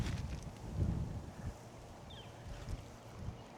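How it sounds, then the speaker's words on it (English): Wind gusts buffet an outdoor spot by the water during crappie fishing, a low rumbling rush that swells and fades over a few seconds, fairly faint with no talk. "Woo, breezy."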